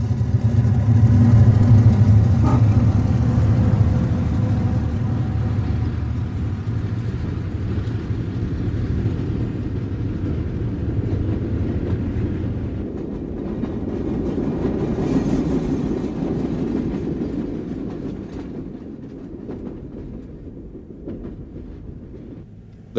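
Pennsylvania Railroad eastbound mail and express train with extra coaches passing, a loud low locomotive rumble and horn-like drone first, then rolling wheel clatter of the cars that gradually fades as the train moves away.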